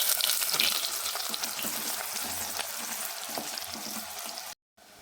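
Onions frying in hot oil for a peanut curry, a steady dense sizzle close by with occasional stirring scrapes, cutting off briefly near the end.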